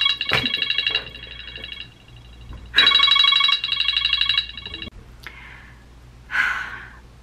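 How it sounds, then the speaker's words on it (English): A telephone rings loudly in two long electronic trills, followed by a sharp breath and a soft sigh. "that phone, the way it rang so loud, that scared me to death"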